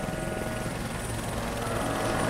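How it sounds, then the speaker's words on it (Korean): A helicopter flying in GTA 5, its steady rotor thump and engine whine continuous and close throughout, with no voices. "헬기를 탈취해 달아났다"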